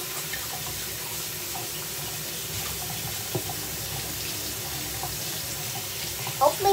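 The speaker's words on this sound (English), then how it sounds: "Quickly wash those hands." A tap runs steadily into a sink as hands are washed under it, a continuous close splashing rush that fills the clip without speech.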